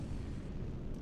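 A ship being hit in the space naval battle game Nebulous: Fleet Command, heard as a dense, rumbling explosive roar that stays loud and sustained throughout, with no talk over it.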